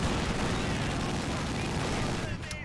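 A ZiS anti-tank gun fires on a Panzer IV tank in a World War II strategy video game, loud dense battle gunfire and booms rolling together with someone talking over the barrage.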